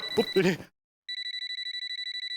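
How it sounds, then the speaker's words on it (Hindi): A landline telephone rings with rapid, evenly pulsed electronic trills, starting right after a brief burst of someone speaking and continuing steadily, moderately loud. "वो लैंडलाइन बज रही है"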